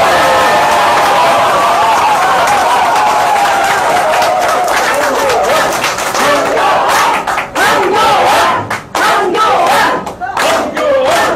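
A large crowd at a political speech roars and cheers loudly, with applause and shouts that swell and then break into choppy bursts toward the end.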